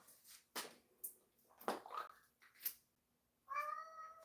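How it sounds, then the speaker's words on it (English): A cat in a video game meows several times in short, separated calls, close and fairly clear, ending with a longer, drawn-out tonal meow; no one talks over it. "I can hear him meowing."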